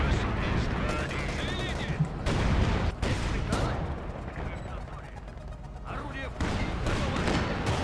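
Guns fire in a chaotic Company of Heroes 2 video game battle, with bursts of gunfire and heavy booms layered together, while voices talk over the noise.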